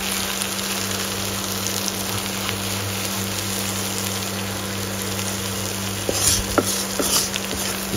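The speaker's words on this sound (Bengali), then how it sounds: "ডাল এবং শাকটা এই বাগারের উপর" Dal and leafy greens poured onto a hot tempering in a pan, giving a steady sizzle with soft stirring and a few sharper scraping clicks toward the end; no one speaks.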